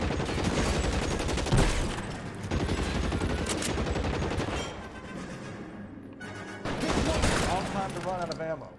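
Dense, loud gunfire from the video game L.A. Noire rattles in rapid bursts and overlapping volleys, briefly easing before a fresh barrage erupts, with voices mixed in.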